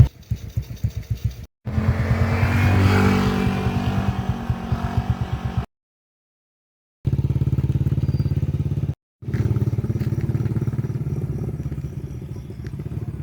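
A motorcycle engine runs loud and close with a steady buzzing drone. It cuts out briefly twice and then resumes at the same even level.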